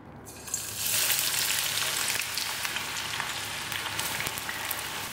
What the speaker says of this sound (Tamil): வெங்காயத்தை நல்ல கோல்டன் ப்ரௌனாக ஃப்ரை பண்ணி எடுத்துப்போம்